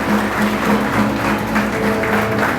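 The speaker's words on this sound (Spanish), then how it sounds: "Vamos a un aplauso a Jesucristo" A church congregation gives steady applause to Jesus Christ during a Spanish-language sermon, dense clapping at moderate volume that fills the short stretch.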